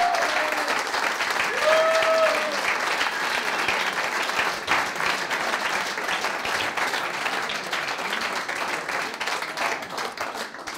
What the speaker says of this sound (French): Je vous demande d'accueillir sous une salve d'applaudissements François Martin